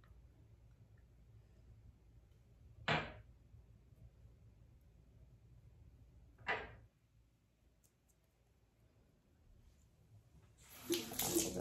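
A bathroom tap runs in two brief gushes a few seconds apart, each a quick burst of splashing water, followed near the end by a longer, steadier stream into the sink.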